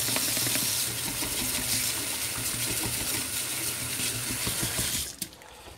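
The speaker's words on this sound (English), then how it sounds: "I need this brush again, so I just want to quickly wash it." A paintbrush is swished and rinsed in a bucket of water, a close continuous splashing and sloshing that stops abruptly near the end.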